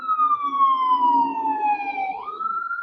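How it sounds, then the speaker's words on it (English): An ambulance siren wails steadily and fairly loudly, its tone sliding slowly downward as it passes, then rising again toward the end, with no talk. "Another ambulance."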